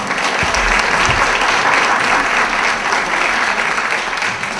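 An audience applauding the speaker Larry Hudson at a horticulture and ecology society evening, a dense, steady round of clapping from a roomful of people that holds loud and even throughout.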